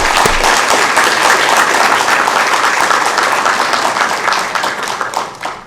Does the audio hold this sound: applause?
yes